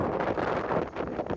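Steady wind buffeting a microphone outdoors on Gran Canaria, a dense, continuous rumble and rush with gusty swells throughout, no other sounds standing out.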